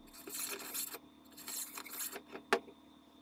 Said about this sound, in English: Another area where loose rust may be hiding is inside the bore. I'll do a few passes with a brush.